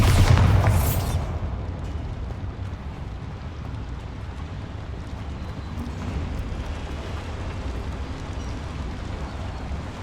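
A Bombarda spell explosion in Hogwarts Legacy on PS5 bursts loudly at the start, then settles into a steady, low rumbling roar that continues to the end.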